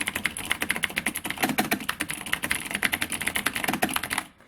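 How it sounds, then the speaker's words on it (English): Fast, clicky typing on a mechanical keyboard with Cherry MX Blue switches, close and crisp, a continuous stream of keystrokes that stops abruptly at the end. "I swapped out the Alps switch keyboard with this Cherry keyboard, which has cherry blue switches."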